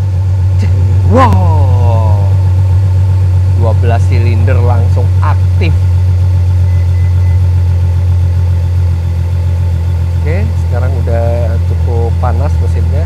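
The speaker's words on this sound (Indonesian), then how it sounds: "Wow, 12 silinder langsung aktif." A Ferrari FF's V12 engine idles steadily just after starting, a loud, constant low rumble throughout with people talking over it.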